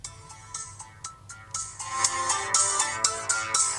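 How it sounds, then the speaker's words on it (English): A stock Android 6 ringtone plays from a phone running CyanogenMod, a bright melodic electronic tune that builds in loudness with steady rhythmic notes, heard alone without talk. "these are actually the same ringtones you get on like basic Android versions"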